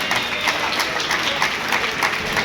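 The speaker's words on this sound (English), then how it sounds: "Please give them a huge round of applause." An audience at a university sports festival in Jaipur claps steadily in a continuous, fairly loud wash of applause with no clear speech over it.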